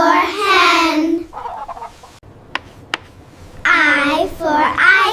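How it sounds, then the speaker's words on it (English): A hen clucks in two loud bursts of calls, separated by a quieter stretch with a couple of sharp clicks. "H for hen."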